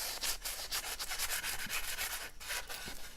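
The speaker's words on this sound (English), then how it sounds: "we are going to be using steel wool" Steel wool rubbed back and forth over the finish on a black limba custom Strat-style guitar body, a close, steady rhythmic scratchy hiss with no talking.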